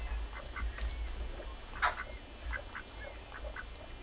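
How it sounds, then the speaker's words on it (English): Ducks quack and chatter softly at a distance in scattered calls over a steady outdoor hum, with one louder call near the middle. "And some more of the ducks out there wandering around."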